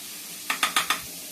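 Onion fries in a pan for egg bhurji. Four quick, close spatula scrapes land in a tight rhythm over a constant soft sizzling hiss.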